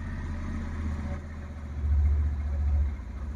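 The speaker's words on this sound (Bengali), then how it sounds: "তো তাদের জন্য জাস্ট আমি একটু গাড়িটাকে স্টার্ট করলাম।" A used 2021 Bajaj Pulsar 150 motorcycle idles close by in a Kolkata second-hand bike showroom, its engine a steady low throb that swells briefly partway through, with no talk over it.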